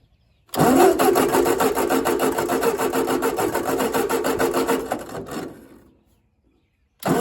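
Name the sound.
1953 Ford engine cranking, failing to start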